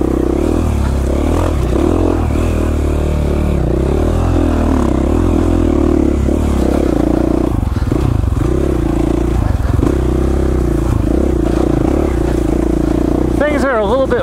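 KTM 450 dirt bike on steep, slick, rocky mountain single track, its engine droning loud and steady throughout with rises and dips in revs as it climbs.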